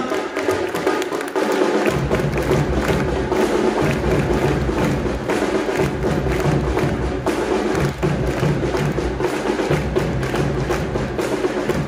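Strong, sustained applause from a crowd of students and parents at a high school scholarship felicitation ceremony, dense clapping that fills the whole stretch with thumping beats from a school band mixed in.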